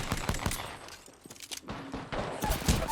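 Gunfire in the video game Apex Legends, rapid bursts of shots and impacts that thin out midway and then pick up again toward the end, with no voices.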